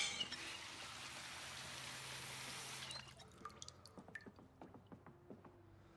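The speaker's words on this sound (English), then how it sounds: "And then we'll fill our empty water bottle." Water pours steadily into an empty water bottle in Project Zomboid for about three seconds, then stops and gives way to a scatter of soft, separate drips.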